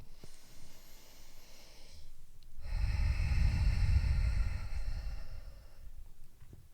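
A deep, audible breath during a hamstring-focused yoga wheel class: a slow inhale, then a long, full exhale through the nose and mouth, close and quiet, with no talking over it.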